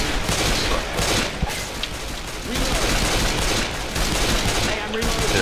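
Rapid gunfire from the Left 4 Dead 2 video game, dense bursts and continuous shooting filling the scene loudly with booming low end, a voice talking faintly underneath.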